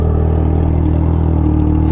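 A motorcycle running on a bare straight pipe with no muffler idles close up, giving a steady, loud, throbbing rumble with a faint crackle near the end.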